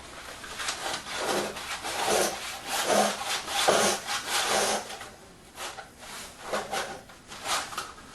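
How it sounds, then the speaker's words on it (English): Leather strap yanked with pliers through the holes of a tabla drum head during reheading, giving repeated rough rubbing, scraping pulls in an irregular rhythm, close and fairly loud with no talk. "If this becomes too tight for you to pull with your fingers, you can use your pliers and"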